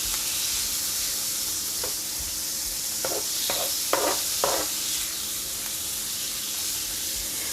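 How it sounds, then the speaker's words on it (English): Shrimp fried rice sizzles in garlic butter on a hot griddle, a steady close hiss with a few louder bursts of crackle partway through as it is stirred. "I like to go ahead and cook mine in the garlic butter that I'm going to be using."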